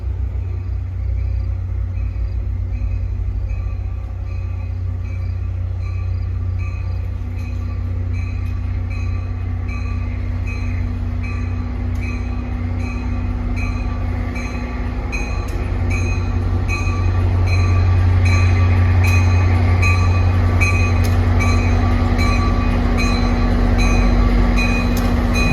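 A train rolls past a crossing in Northern New Jersey, a loud sustained rumble of railcars with steady wheel noise that swells louder in the second half, continuous for the whole stretch.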